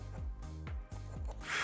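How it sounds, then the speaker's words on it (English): Power drill boring pilot holes into a wall for a TV mount, a few short close bursts of whirring with brief pauses between them and a louder, rough grind at the end. "before I start hitting with the drill bit"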